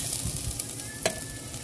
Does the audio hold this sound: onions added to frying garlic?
yes